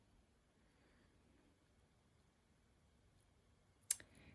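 A single sharp computer mouse click on a Zoom Start button, heard near the end after several seconds of near silence.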